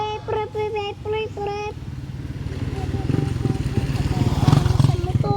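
A motorcycle engine thrums in a steady pulsing beat that grows louder and rougher, following a few spoken words at the start.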